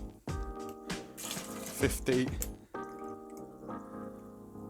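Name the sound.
pouring mango pineapple soda into a glass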